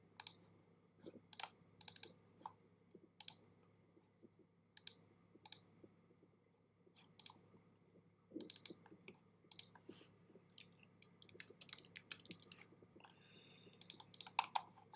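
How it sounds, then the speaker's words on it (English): Typing on a computer keyboard, close and clear: sparse, irregular key clicks at first, building into quicker bursts of keystrokes toward the end, with no talking over them. "Let's type that in."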